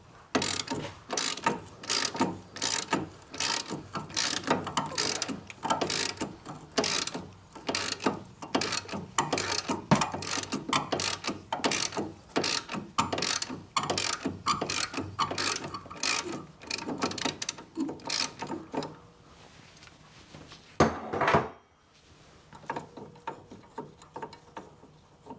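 A ratchet clicks rapidly and steadily, loosening the stabiliser link nuts on the front suspension of a 2010 Kia Sportage 2.0 petrol. Dense bursts of pawl clicking continue for about twenty seconds, then a short louder burst and quiet.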